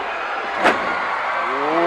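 At a Houston professional wrestling match between Butch Reed and Tito Santana, a shoulder drive lands with a single sharp thud against a loud, steady arena crowd roar, and a commentator talks over it.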